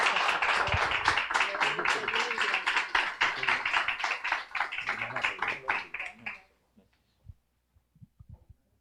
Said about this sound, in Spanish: Démosle un aplauso de gratitud al Señor.